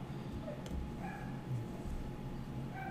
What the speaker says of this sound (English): Neighbor's dog is a little wild this morning.